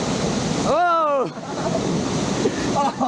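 Rushing river water on the Colorado River water slide at Sommet Saint Sauveur, a loud continuous splashing roar close to the ear, with a person's voice rising briefly over it.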